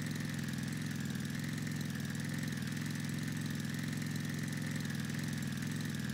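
Steady, continuous engine hum of a vehicle driving through a cave in the Roblox game Refinery Caves, with a constant low drone and no speech.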